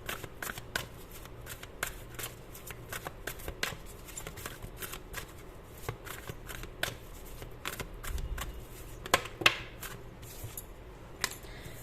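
Tarot cards are shuffled by hand at close range, a quick series of crisp riffling snaps and soft flicks repeating steadily throughout.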